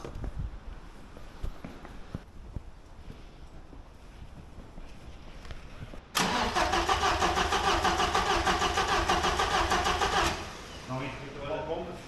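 A 1990s Opel/Vauxhall engine with a rusty fuel pump relay just replaced, first quiet ticking and murmur, then a loud sustained rough cranking for about four seconds before it drops back, with people talking.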